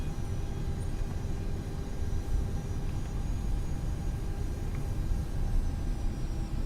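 Steady low jet engine rumble from an Icelandair Boeing 767 in the MSFS2020 flight simulator at Reykjavik, a continuous broadband drone with no talk.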